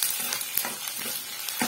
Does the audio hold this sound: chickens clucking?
no